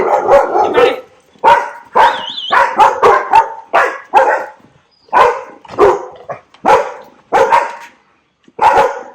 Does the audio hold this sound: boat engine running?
no